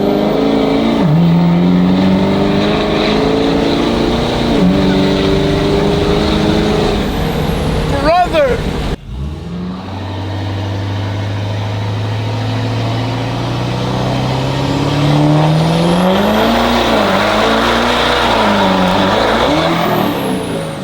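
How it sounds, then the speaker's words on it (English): A 1000-horsepower dually tow truck revs loudly through a burnout, its engine note rising and falling in a sustained roar, with a hiss like an air release midway before the droning engine resumes. "it does a burnout"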